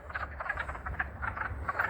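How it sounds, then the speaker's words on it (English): Dense chorus of many frogs croaking at a pond in a Pennsylvania state park, overlapping calls pulsing steadily throughout at moderate distance with no talking. "Hundreds and hundreds of frogs."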